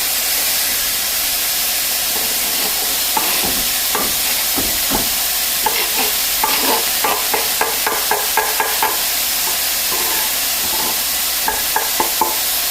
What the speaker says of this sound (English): let's get these veggies in here